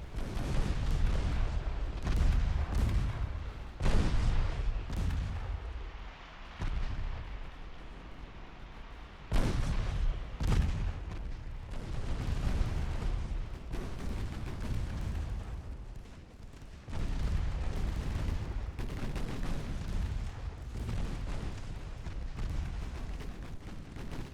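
Heavy naval guns boom again and again in Ultimate Admiral: Dreadnoughts during a long-range artillery duel, with loud irregular salvos and rumbling blasts over a constant low roar.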